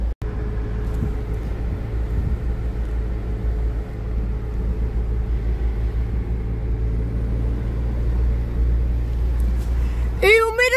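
A car engine rumbles low and steady while being driven, with a brief change in pitch near the end and voices present over the drone.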